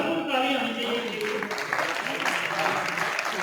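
Audience applause greets performer Mohammad Fayaz Patakha at a Pakistani artists' calligraphy exhibition, a fairly close clatter of clapping that swells after a voice and continues beneath ongoing talk.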